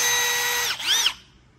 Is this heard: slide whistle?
no